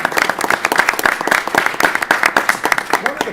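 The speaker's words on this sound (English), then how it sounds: "let's give them a round of applause" Audience at a public works and safety board meeting applauding, a moderate crowd of hands with distinct close claps in a brisk irregular rhythm, some voices mixed in.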